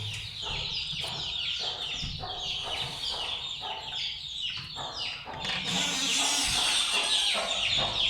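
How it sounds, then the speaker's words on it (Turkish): Many guinea fowl chicks cheep and peep continuously in a busy, high-pitched chorus, close by, with the chirping growing denser toward the end. "Bunlar Hint tavuğun civcivleri"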